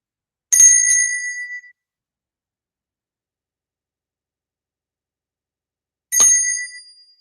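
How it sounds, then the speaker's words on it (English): A small bell rings in two bright, clear dings separated by a long silence, each ring decaying slowly; no speech accompanies it. "I'm gonna ring this bell 3 times."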